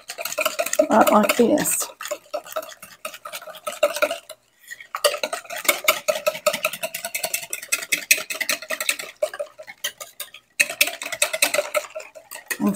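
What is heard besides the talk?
small whisk mixing milk, egg and garlic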